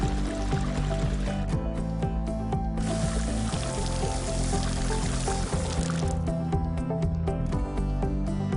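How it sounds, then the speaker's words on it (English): Disinfectant liquid flowing into a tube, a soft continuous trickle and gurgle with faint dripping, fairly quiet and steady with no speech. "Make sure that the disinfectant liquid flows in."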